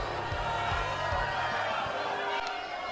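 A raucous wrestling crowd fills an arena in Charlotte with continuous loud cheering and chatter, a dense roar with a few sharp shouts rising from it.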